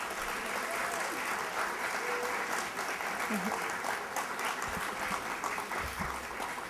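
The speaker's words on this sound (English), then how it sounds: "Let's give the congressman one more round of applause." A university audience applauds a congressman with steady, dense clapping that continues evenly throughout, heard from somewhat far back with a faint voice underneath.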